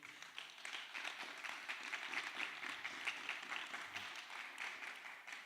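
A church congregation applauds together in a steady, moderately distant wash of clapping that runs unbroken and fairly even for several seconds, with no clear voice on top.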